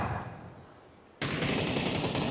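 Sudden burst of rapid, continuous gunfire and bombardment in a competitive shooter match, loud and sustained after a quieter opening second of game ambience.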